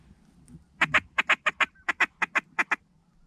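A string of about a dozen quick, evenly spaced honking quacks from ducks or geese during a waterfowl hunt, fairly close and alone in a quiet setting.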